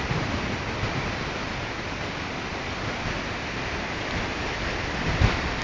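The flooded Santa Bárbara river in Gualaceo rushes past with a dense, unbroken roar that holds at a steady level from start to finish.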